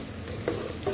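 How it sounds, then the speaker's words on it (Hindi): Sliced onions fry and are stirred in a pan for a chickpea gravy, a close, steady sizzle with brief scraping stirs. "प्याज जो है वो ब्राउन हो रहा है।"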